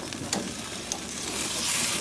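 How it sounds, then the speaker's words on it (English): Food sizzles on a grill with no heat under it, a soft steady crackling hiss with a few small pops, growing slightly louder toward the end. "Ooh, listen to that sizzle."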